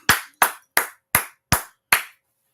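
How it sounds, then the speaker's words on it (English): A class claps in unison six times, each sharp, crisp clap landing at a slightly uneven rhythm with a short decay and clear silence between, ending in quiet. "All right, so let's clap it up"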